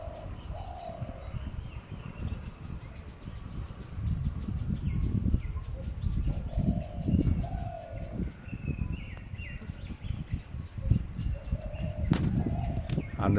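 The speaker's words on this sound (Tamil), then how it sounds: "ஒரு பறவை ஒன்று கத்துற சவுண்டு கேட்டுக்கிட்டே இருக்கு நண்பர்களே" A greater coucal calls over and over outdoors, a series of low, hollow, coo-like hoots recurring throughout, with faint chirps from other birds and steady background noise.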